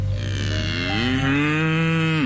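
A cow lets out one long, loud, close moo with a rising then falling pitch that lasts about two seconds and then cuts off, heard alone as part of a radio advertisement.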